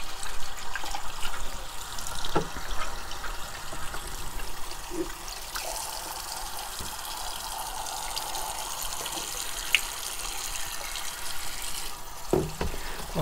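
Parts of an Eheim Classic 250 external aquarium canister filter are rinsed under running tap water, a steady, loud, close splashing flow that continues throughout with a few small clinks.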